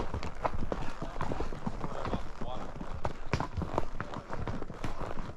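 Horses carrying riders along a trail in the Ponil area at Philmont clop steadily with their hooves in a continuous rhythm, close and fairly loud, while people talk over them throughout.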